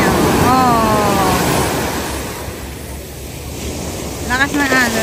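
Strong surf at Cheung Sha Beach crashes and rolls loudly and steadily, with wind buffeting the microphone and voices speaking over it now and then.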